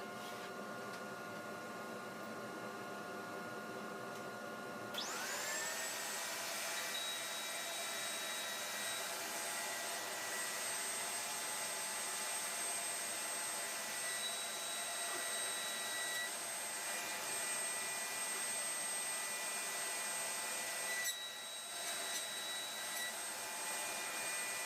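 Wood planer with a hanging dust collector system in a workshop, a steady loud whine that steps up abruptly into a higher-pitched sustained roar with tonal hums, running continuously without talk.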